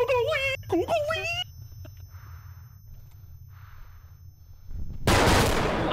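Someone speaks briefly, then a few soft, muffled bursts sound in a quiet stretch. A grenade then explodes in a video game shooter with a loud, sudden, sustained roar at the very end.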